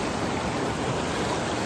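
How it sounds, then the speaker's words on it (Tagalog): Strong sea waves churn in a continuous, dense wash of broadband noise with no break, steady and fairly loud, heard alone without voices. "Malakas yung alon."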